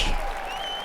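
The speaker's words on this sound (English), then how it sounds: "I have to wait for the applause to die down" Studio audience applause on a sports talk show, a dense wash of clapping that fades slightly and holds steady through the short stretch.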